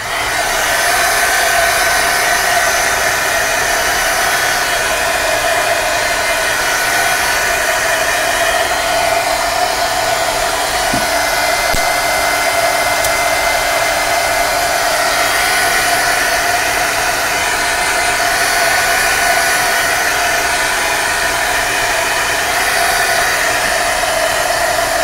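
A hair dryer blows steadily to dry a light coat of acrylic gesso on a canvas, a loud continuous whoosh with no pauses and no voices.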